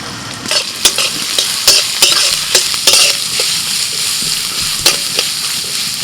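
Chopped onion and green chili fry in hot oil in a pan, a steady sizzle broken by repeated sharp clinks and scrapes of a spoon stirring against the metal.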